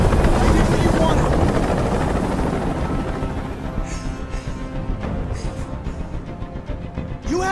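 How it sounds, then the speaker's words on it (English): In the video game Detroit: Become Human, a helicopter hovers nearby with a loud, rumbling rotor wash and whooshing turbulence that gradually eases, while voices speak over it. "I can't stand that noise anymore. Tell that helicopter to get out of here."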